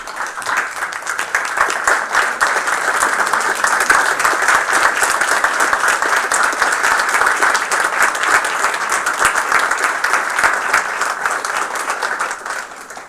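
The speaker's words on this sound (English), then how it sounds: "let's give them a round of applause and stand and say thank you so much." A board meeting audience stands and gives a sustained round of applause, dense continuous clapping that swells quickly, holds steady and then tapers off near the end, with no clear talking over it.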